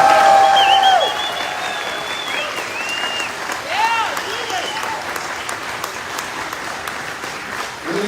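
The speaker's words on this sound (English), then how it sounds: "So a big round of applause for her." A political gathering's crowd breaks into a round of applause for a candidate, loud at first and then thinning into scattered clapping, with voices and other sounds mixed over the crowd.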